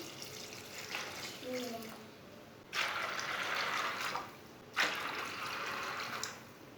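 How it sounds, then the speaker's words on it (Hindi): Glasses of water are poured into a pot of soaked black chickpeas, making several separate splashing gushes of a few seconds each that start and stop sharply, with a quieter softer pour near the start. "3 गिलास पानी डाल लेंगे।"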